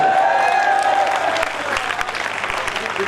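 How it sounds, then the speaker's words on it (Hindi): Applause from the audience at a Hindi kavi sammelan poetry recital, a dense wash of clapping with some crowd voices mixed in, loud at first and easing slightly; a faint tonal hum runs beneath. "ये वही लोग तालियां बजा रहे हैं"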